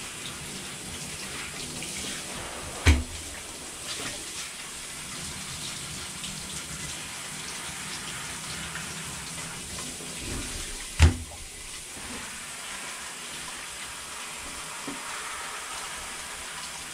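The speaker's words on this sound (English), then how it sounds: "Crank it up to the hot water. Rinse out the tray good while I'm in here." Hot water runs from a tap in a steady rushing stream to rinse a tie-dye tray, heard close and fairly loud. Two sharp knocks come from the tray or sink while the water keeps flowing.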